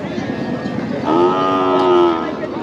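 A calf lets out one long, close moo over a low background murmur at a cattle market in Nilphamari.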